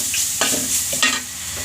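A masala paste is stirred and fried in a pan while cooking kappa puzhukku, with soft sizzling under a few sharp spoon scrapes against the pan, close and fairly quiet.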